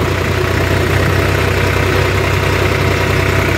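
A New Holland 3630 4WD Special Edition tractor engine runs with a steady, loud, even drone and a low throb, close up and continuous with no voices.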